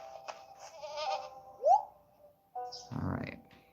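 Goats in a farming video game give a few short bleats amid other game sounds, one rising cry standing out clearly at mid volume.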